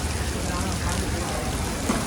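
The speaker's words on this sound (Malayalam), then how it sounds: "ഇപ്പം നല്ല മഴ പെയ്യുന്നു" Heavy evening rain in Delhi falls in a thick, constant roar of drops hitting surfaces, loud and close throughout.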